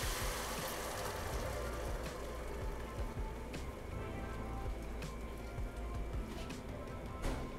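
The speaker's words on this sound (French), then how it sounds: "On va mouiller avec notre fond de veau." Veal stock poured into a hot pan for a steak au poivre sauce, giving a steady hiss and bubbling sizzle that runs unbroken at moderate level with no talking.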